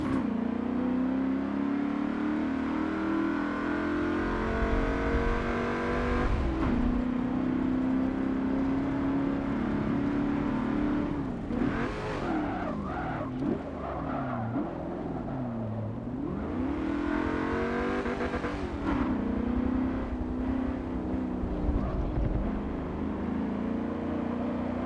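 A Trans Am race car engine in Forza Motorsport 7 revs hard and drops in pitch between gear shifts, rising and falling steadily with no talking throughout.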